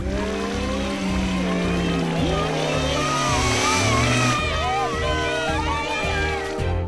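Cartoon three-wheeled race cars arrive at a Grand Prix with a loud, continuous roar of engines, revving pitch sweeps and passing cars over busy background music.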